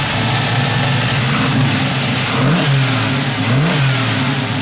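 A 1969 Chevrolet Camaro RS engine revs up repeatedly in short bursts, rising and falling in pitch over a steady loud idle, close by.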